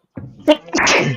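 A single sharp sneeze, close and loud, with a quick intake of breath before the burst.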